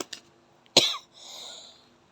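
A single sharp cough bursts out after a brief pause, followed by a softer breathy exhale; close and fairly loud, with no talking.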